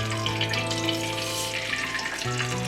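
Sizzling and crackling of mustard seeds dropped into hot coconut oil in a pan, made while preparing a Kerala-style prawn pickle, with a steady close frying hiss that stays dense and continuous throughout.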